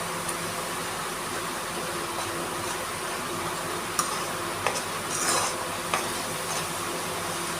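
A spoon steadily stirs and mixes a dish in a pot, giving a soft, continuous scraping under a faint background hum, with a few sharper clinks of metal on the pot.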